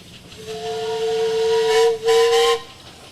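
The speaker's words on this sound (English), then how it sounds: "How about a whistle, guys?" A steam traction engine's whistle sounds at a parade: a loud, near, steady two-tone blast with breathy hiss, briefly broken by a short gap before resuming, then cut off.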